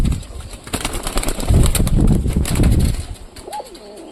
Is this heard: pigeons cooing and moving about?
yes